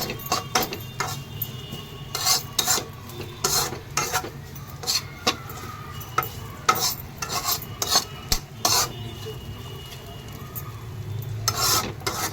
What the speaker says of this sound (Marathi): आपण आता ती भेंडी जी कापून घेतली होती भाजून घेतली होती ती टाकून घेऊया त्याच्यामध्ये आणि त्याला आता सर्व एकत्र मिक्स करून घेऊ